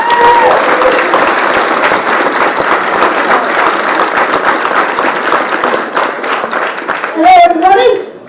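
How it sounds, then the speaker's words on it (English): Sustained, loud audience applause fills the whole stretch at a motor-racing Q&A session, dense clapping with crowd noise, and a voice and cheer rise briefly near the end. "we'd like to give a massive round of applause for our questionnaire"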